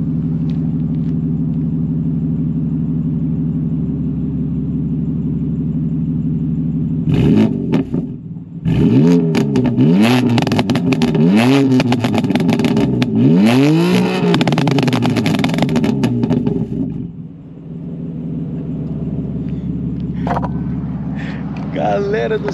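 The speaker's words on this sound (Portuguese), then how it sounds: "olha os pops and bangs desse carro" BMW M3 Stage 2 with an SSR downpipe and carbon-fibre body kit, exhaust valves fully open: a deep idle rumble swells into several loud revs laced with crackling pops and bangs, then drops back to a burbling idle.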